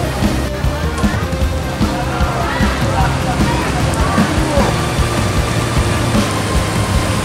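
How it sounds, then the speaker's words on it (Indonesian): Rain falls steadily at the Terminal Beras bus terminal in Solok, Indonesia, a dense, continuous hiss close by, with a low rumble of idling vehicles and faint murmuring voices underneath. "Hujan mulai mengguyur kota Solok bosku, termasuk di Terminal Beras Solok"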